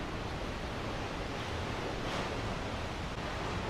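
Waves from a wave pool in the Solarium aboard the Odyssey of the Seas cruise ship make a steady, broad rushing wash, with no breaks and a slight surge in the middle.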